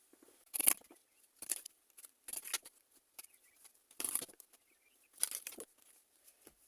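Tarot cards being drawn and handled, with brief crisp shuffling and snapping bursts in a short irregular series, near and fairly quiet, with no talking.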